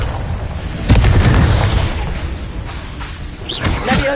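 A Confringo blasting spell explodes in Hogwarts Legacy, a loud booming burst with a rumbling tail that lasts a few seconds and then fades.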